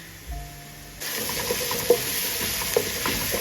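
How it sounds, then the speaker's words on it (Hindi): Golden onions frying with garlic ginger paste, a quiet start giving way to a steady sizzle after the paste goes in, with a couple of spoon clinks and stirring sounds. "और लहसुन अदरक के साथ तो थोड़ा सा भूनेंगे।"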